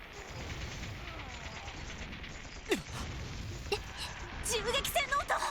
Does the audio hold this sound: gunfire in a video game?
yes